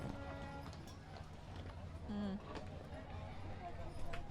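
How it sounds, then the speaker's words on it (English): An eight-horse hitch of Clydesdales clip-clops along a street parade at an exhibition, steady hoofbeats on pavement under crowd noise and someone talking over them. "Fine looking 8-horse hitch there."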